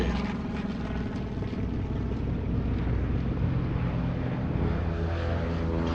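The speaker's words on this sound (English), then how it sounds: "Coming in with his left inboard engine dead." A World War II B-17 Flying Fortress bomber comes in to land with its left inboard engine dead, its propeller engines giving a steady, rumbling drone throughout.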